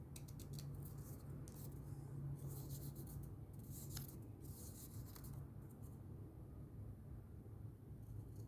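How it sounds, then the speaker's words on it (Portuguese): A pencil scratches a price onto a coin holder, giving soft close rubbing strokes in short bursts over a steady low hum. "Aí eu escrevo o preço a lápis."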